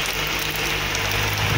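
Heavy rain pours steadily in Passira, Pernambuco, a dense, even hiss of drops on surfaces that carries unbroken and close, with no voices.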